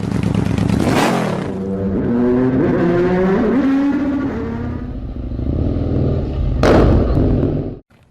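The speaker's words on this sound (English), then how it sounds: "This is the KTM Duke 890R and the awesome LeoVince exhaust." A KTM Duke 890 R motorcycle fitted with a LeoVince exhaust revving hard, loud and close, with a sharp blip, a sustained climbing engine note, a second quick rev and an abrupt cutoff.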